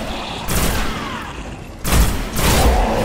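A grenade explosion in the video game Destiny: two or three loud, booming blasts in quick succession, each a broad burst that rumbles briefly before the next.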